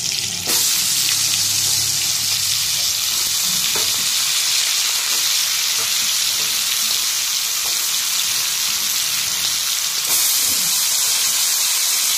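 Vegetables hit a hot pan of frying dried fish and spices and break into a loud, continuous sizzle that holds for several seconds, with occasional stirring clatter close by.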